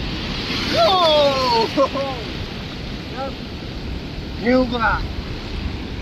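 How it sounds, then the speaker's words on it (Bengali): Sea waves roll onto Cox's Bazar beach in a steady, broad surf wash with wind, while voices talk over it in bursts. "পৃথিবীর সব থেকে বড় এবং সব থেকে সুন্দর সমুদ্র সৈকত আমাদের এই কক্সবাজার সমুদ্র সৈকত"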